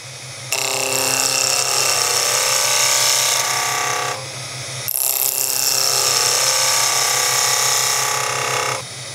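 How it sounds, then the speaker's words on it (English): A wood lathe spins a spindle while a Robert Sorby Spindlemaster tool takes slicing cuts, giving two long, bright, hissing bursts of several seconds each over a low motor hum, with no talk. "we get shavings are just being pushed to one side"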